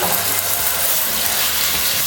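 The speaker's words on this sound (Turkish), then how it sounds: "Şimdi içine kuşbaşı doğranmış tavuklarımı koyuyorum." Loud, steady sizzling of diced chicken pieces frying in hot oil, a continuous crackling hiss close up with no talking.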